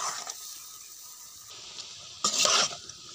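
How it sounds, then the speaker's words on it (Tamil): Eggs are stirred in a sizzling frying pan while cooking with ridge gourd, making soft scraping strokes over a steady hiss, with a sharper burst of stirring near the end. "இப்போ முட்டையெல்லாம் நல்லா கலரி விடுவோம்"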